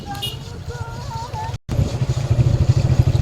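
A motorcycle rides along a scenic road, its engine giving a steady low rumble that swells slightly louder toward the end, with a brief drop-out midway and a whistled or sung tune faintly over it early on.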